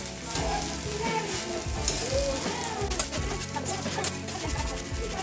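Sabudana khichdi with green chili, peanut powder and salt is stir-fried in a pan, giving a continuous close sizzle with scraping spatula strokes, while birds chirp in the background.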